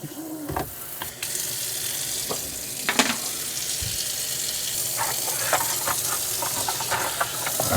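Tap water runs and splashes over a Roborock robot vacuum filter being rinsed, a steady hissing stream with a few brief knocks and clatters, close and moderately loud, with no talking.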